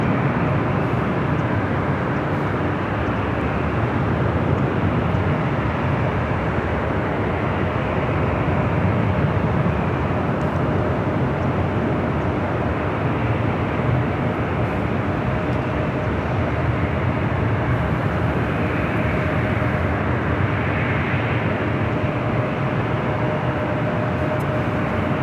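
Steady broadband roar of jet aircraft departing LAX, a continuous distant engine rumble with a faint tonal hum, alone without talk.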